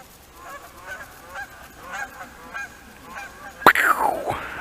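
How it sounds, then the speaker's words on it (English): A goose lets out a loud, sudden honk at a pond, followed by more honking calls, after a stretch of softer squawks and rustling. "Holy geese."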